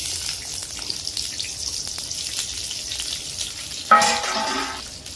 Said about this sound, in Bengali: পেঁয়াজটা ভেজে নেব, পেঁয়াজ কাঁচামরিচ